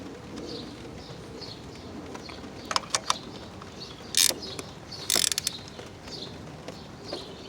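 A ratchet wrench tightens spark plugs on the engine of a 2013 Cadillac ATS, giving a few quick clicking ratchet bursts near the middle over a steady low background hum, with no talk.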